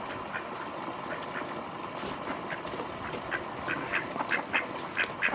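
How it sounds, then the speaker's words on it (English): Ducks quack repeatedly beside a pond, a run of nasal calls that grows busier and louder toward the end over steady outdoor background noise. "I think the ducks are going to walk right in front of the camera."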